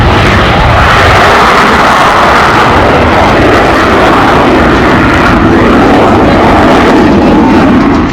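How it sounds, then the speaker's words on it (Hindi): A Rafale fighter jet roars overhead at an air show, a loud, sustained broadband engine rush that fills the whole stretch without pause, with no voices. "इस एयर शो में जब राफेल ने आसमान में उड़ान भरी"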